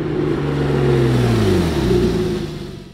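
Engine of a 2012 Porsche 911 revving on a race track, a loud, close, steady drone whose pitch sweeps up and down as it pulls through corners, with no voices.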